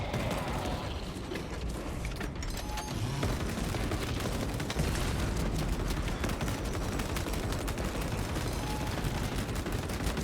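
Dense, continuous rapid gunfire in the video game Space Marine, likely heavy bolt rifle fire mixed with battle noise, loud and relentless throughout with no pauses or speech.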